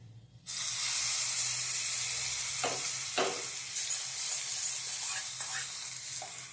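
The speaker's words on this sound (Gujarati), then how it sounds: "અને હવે એમાં નાખીશું હિંગ. આ વઘાર હવે આપણે આ ચટણી ઉપર રેડવાનો છે." Hot tempering with asafoetida poured over chutney bursts into a loud, steady sizzle that starts abruptly and holds throughout, with a few faint clinks of a pan or spoon partway in and no talking.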